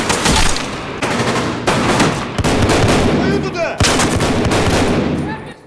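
Bursts of automatic gunfire from Escape From Tarkov crack loudly in rapid succession, several separate volleys with short gaps between them, fading out at the end.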